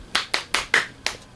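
Five sharp hand claps ring out close by, evenly spaced at a steady rhythm, each a crisp slap with nothing else around them.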